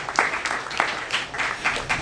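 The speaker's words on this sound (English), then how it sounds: "You can clap for Elijah" Audience applause at an outdoor county Envirothon event at Croton Point Park, a steady patter of claps from a modest crowd, moderately loud throughout the short stretch.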